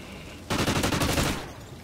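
Light machine gun fire in a tactical shooter video game, a loud, dense burst of rapid shots lasting about a second before cutting off abruptly, no voices.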